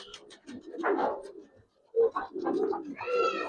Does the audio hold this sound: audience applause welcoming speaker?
no